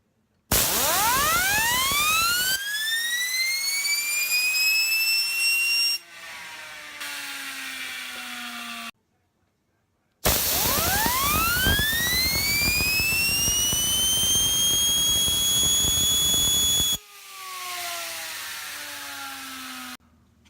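A FEGVE GEAR fidget spinner whirs loudly in two long spin-ups, its pitch climbing steadily to a high, steady whine before it slows with a lower tone, with brief silence between runs.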